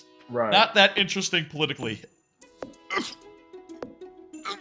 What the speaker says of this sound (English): I always sneeze like this.